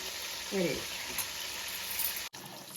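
Prawns frying in a pan on low heat give a soft, steady sizzle with a brief scrape of stirring and a sudden drop near the end.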